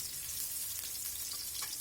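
Ridge gourd frying in a pan with eggs nearby, a soft, even hiss of hot oil that holds steady throughout, faint and fairly distant with no other sounds.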